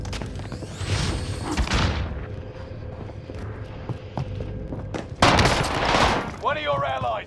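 Video game firefight with a grenade blast and rapid bursts of gunfire, loud booms and crackling shots over a minute-long scene; a voice shouts briefly partway through and synthetic game chimes sound near the end.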